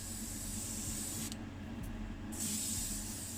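Red candy paint sprayed in coats over a gold base on a Pontiac Firebird Trans Am gives a continuous close airy hiss that dips briefly in the middle before resuming.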